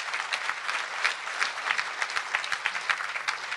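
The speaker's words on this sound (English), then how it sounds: "Please give these folks a big round of applause." A conference audience at the International Snowmobile Congress applauds longtime attendees, a lively crowd of clappers with crisp individual claps standing out from the steady ovation.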